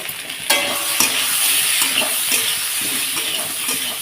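Taro being stirred and fried with salt in a pan, a steady sizzle with repeated scraping strokes of the spatula at a regular rhythm, close and continuous.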